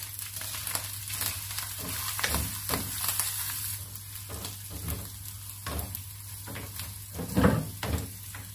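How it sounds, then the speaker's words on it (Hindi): Garlic-ginger paste sizzles and fries in hot oil while a utensil stirs and scrapes the pan at irregular intervals, close and steady. "ऑयल गर्म हो गया है, लहसुन अदरक का पेस्ट डाल देंगे। 2 मिनट तक लहसुन अदरक को भूना है।"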